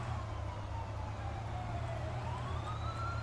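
A police car siren in the game Thief Simulator wails in slow, rising and falling sweeps, faint and somewhat distant, over a steady low vehicle engine hum.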